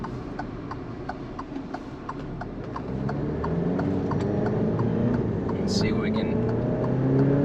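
A 2019 Alfa Romeo Giulia accelerates onto the I-95 highway from inside the cabin, its engine note climbing steadily in pitch and loudness over road noise while someone speaks briefly at the start.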